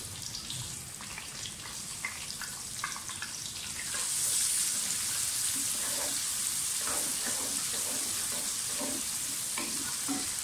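Onions fry in oil in a pot for peas and potato pulao, a soft crackling sizzle with stirring scrapes that grows louder and brighter partway through and then holds steady.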